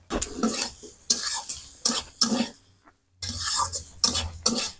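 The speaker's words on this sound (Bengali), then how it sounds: "তো আলুর সাথে ভালোভাবে কষিয়ে নেব মশলাটাকে।" Spice masala being stirred with potatoes in a pan for egg pops filling, with repeated scraping and clattering strokes of a utensil against the pan. The strokes come in quick bursts with a short pause partway through.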